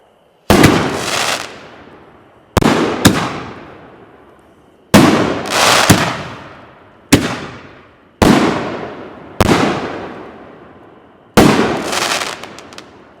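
Firework shells from a single-fuse consumer firework show burst one after another, about seven loud booming cracks at irregular intervals, each trailing off into crackle and fading echo, with no voices.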